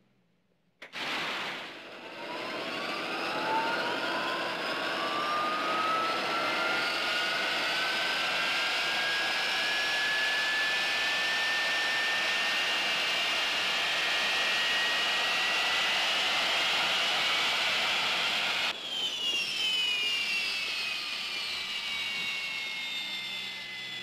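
An airliner engine fires up in a 1964 film scene: a sharp ignition burst, then a loud, sustained jet whine rising steadily in pitch for many seconds, before a brief drop and renewed roar.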